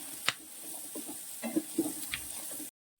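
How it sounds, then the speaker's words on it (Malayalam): Ginger, green chili and garlic sauté in a pan for a Kerala-style pollichathu, giving a soft, low sizzle broken by a few stirring scrapes and taps before falling silent at the end. "നമ്മുടെ ഈ പൊള്ളിച്ചതിന് നമ്മുടെ ഇഞ്ചിയും പച്ചമുളകും വെളുത്തുള്ളിയും ഒക്കെ നന്നായിട്ട് വാടണം"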